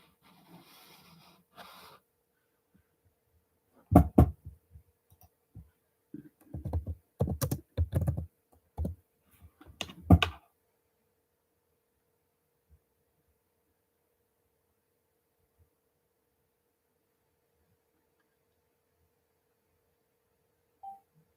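Typing on a computer keyboard, a brief cluster of quick, close key clicks and taps lasting several seconds, followed by long quiet.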